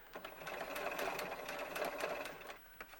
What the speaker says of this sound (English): I'm just going to top stitch while everything is laying flat, just a little bit at a time on the pink